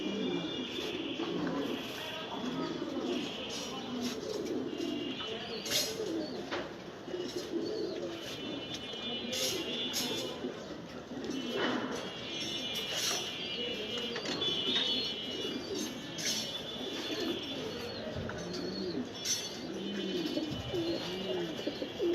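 Pigeons coo in a loft in winter, soft repeated throaty calls overlapping at close range over a steady background hum, with occasional brief chirps and wingy rustles.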